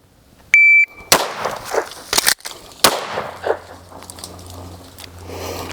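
A shot timer gives a sharp beep, then pistol shots crack in quick succession, loud and close, during a compressed-ready drill, with ringing echoes between them.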